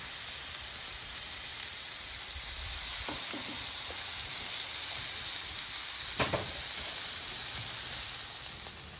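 Pork chops sizzle steadily on a hot Blackstone griddle at about 450 degrees, a loud, close, continuous hiss with a couple of faint scraping taps partway through, heard without talk.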